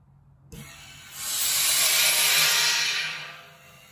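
Compressed air from a garage air compressor hisses through a modified valve, starting with a click and then swelling into a loud, steady rush before it tapers off.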